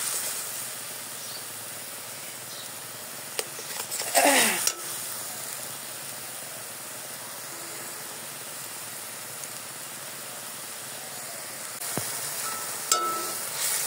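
Tomato masala spits and sizzles in a hot pan with shrimp and new potatoes waiting, a steady broadband frying hiss throughout, broken by a few clinks of a stirring utensil against the pan.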